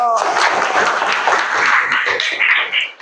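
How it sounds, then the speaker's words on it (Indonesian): Classroom applause from students in an Islamic religious education lesson, steady clapping from many hands with excited voices mixed in, fairly close and loud throughout. "Tepuk tangan dulu"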